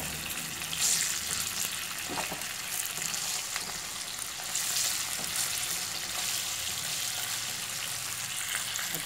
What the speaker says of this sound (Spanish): Y también vamos a freír el chile pasilla